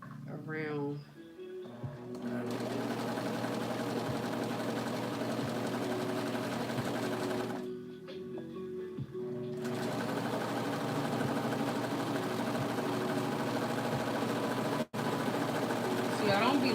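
A sewing machine runs in long, steady stretches with a mechanical hum and rhythmic needle clatter, pausing briefly in the middle before resuming, with a person's voice occasionally heard over it.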